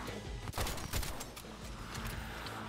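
Shotgun blasts in the zombie game Dead Island 2, a few sharp loud bursts amid constant dense game noise and chaotic action.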